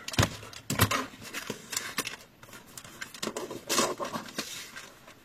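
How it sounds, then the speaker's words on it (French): Scissors cut through paper or card while making punchboard storage in a craft project: a handful of sharp snipping bursts in irregular rhythm, close and moderately loud, with no talk. "Donc je coupe avec ça."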